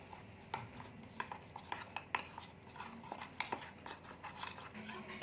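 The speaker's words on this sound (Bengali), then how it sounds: "এটাকে ভালো করে গুলে নিচ্ছি আগে" A spoon beats batter and water in a bowl, giving quick irregular clinks and scrapes against the side, close and fairly quiet, with a soft background hum.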